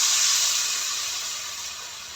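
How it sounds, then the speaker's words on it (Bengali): Broth poured into spices frying in oil for a catla fish curry sets off a loud, broad steamy hiss that slowly fades over two seconds, heard alone. "এবার ঝোল দিয়ে দিব।"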